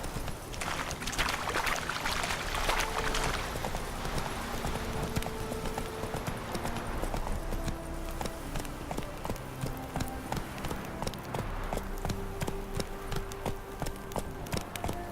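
A horse gallops in a video game with a steady, rapid clip-clop of hooves that stays close and loud throughout, with tonal game music running underneath.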